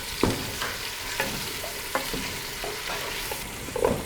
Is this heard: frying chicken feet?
yes